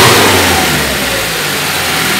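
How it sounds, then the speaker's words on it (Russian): A carbureted car engine running on LPG revs up with a loud, close, rising mid-pitched roar, then holds at elevated speed with no talk over it. "Давайте вот так ему поднимем обороты,"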